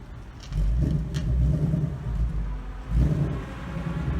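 A car pulls into a residential driveway lined by a brick wall, its engine rumbling low and close with a couple of revving surges as it moves in.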